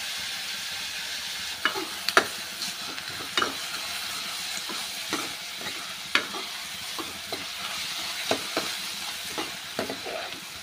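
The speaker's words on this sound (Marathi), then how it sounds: "छान मऊसूद हा कांदा परतता गेला पाहिजे." Chopped onion sautéing with curry leaves in a pan, a soft steady sizzle under repeated scraping strokes of a stirring spoon, close and fairly quiet.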